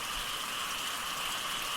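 Steady, even rain falling outside, a continuous dense hiss with no breaks, heard alone as a sound effect in a Bengali horror audio story.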